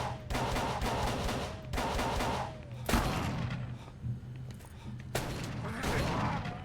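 Gunfire in the horror video game Call of Cthulhu: Dark Corners of the Earth, with loud, close shots and rattling volleys that repeat in several dense bursts across the stretch.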